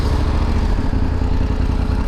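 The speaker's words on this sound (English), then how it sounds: "the engine doesn't sound as clacky as you're hearing it" A BMW F850GS motorcycle idles steadily and loudly nearby, a dense low rumble with a constant clattering tick of valvetrain noise running through it, and no pauses.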